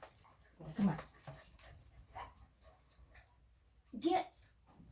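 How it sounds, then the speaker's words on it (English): Dogs whimper, pant and yip faintly in the background of a room in two short bursts a few seconds apart, with quiet stretches between. "my animals are behind me just making lots of noise. Dogs."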